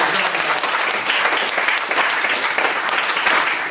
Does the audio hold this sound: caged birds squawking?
no